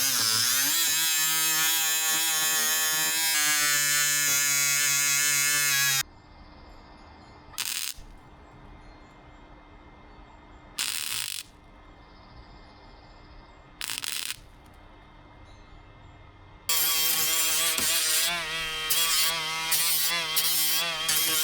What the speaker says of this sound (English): I gotta grind this one down.